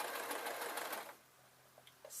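A sewing machine stitches T-shirt material with a fast, even whirring hum for about a second, then stops, leaving quiet with a few small clicks.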